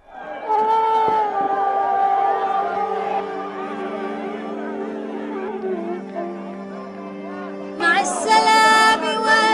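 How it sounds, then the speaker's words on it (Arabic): Hundreds of Palestinian mourners chant in unison during a funeral procession to a cemetery in the village of Qatanna northwest of Jerusalem, sustained voices rising and falling, with a louder burst of cheering or ululation near the end. "بمشاركة مئات الفلسطينيين الذين رددوا هتافات تدعو إلى الانتقام لدماء الشهيدين"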